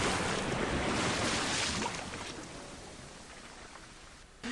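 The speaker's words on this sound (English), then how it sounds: "Torrents of water gush down from the pop waterbeds, putting out the fire, but converting the disaster into a flood." Torrents of water gush and pour from burst waterbeds in an animated flood scene, a broad steady rushing roar that fades lower halfway through before a short burst at the end.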